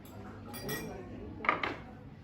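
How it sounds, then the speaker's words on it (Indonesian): A spoon is set down against tableware during a formal banquet etiquette session, giving two quick light clinks near the end of a quiet room with faint background voices. "Jika selesai, sendok ditempatkan ke tempat semula dengan posisi terbalik."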